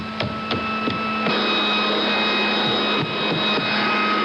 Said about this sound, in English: that sounds like a vacuum cleaner